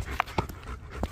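A dog pants on a nature trail in Kansas, quick breaths with a few sharper snorts and whimper-like bursts, close by and fairly loud, with no talk.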